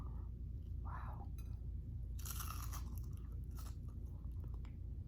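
Someone bites into a thick Claussen fried pickle with a close, crunchy snap, then chews briefly, all over a low steady background hum.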